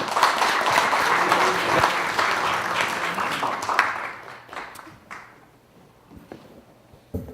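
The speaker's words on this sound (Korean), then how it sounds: "큰 박수로 맞이해 주시고" Loud audience applause greets a professor taking the stage at a Korean academic forum; sustained dense clapping that fades out after about four seconds into scattered claps and light taps.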